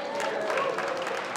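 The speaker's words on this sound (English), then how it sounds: "so give yourself a round of applause." Audience applause at a charity race award show, a steady wash of clapping from a crowd held at even level through the short stretch.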